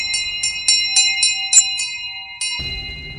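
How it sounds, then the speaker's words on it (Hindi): An old school bell rings in a horror story, a rapid series of about nine bright metallic strikes that then stop, leaving a low rumble of rain-like noise behind. "अचानक स्कूल की घंटी बजने लगी"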